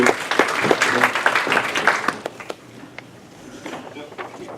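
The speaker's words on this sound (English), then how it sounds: "Please join me, just a quick round of applause here." An audience at a family office talk claps to welcome two speakers to the stage. The applause is loud and dense for about two seconds, then thins to a few scattered claps under quiet room noise.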